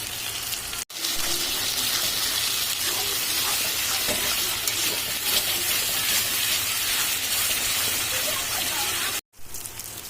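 A paste of cumin with dry and green chilies fries in a pan with garlic and ginger for a goat meat curry, giving a steady, even sizzling hiss, close and continuous, broken by two brief dropouts.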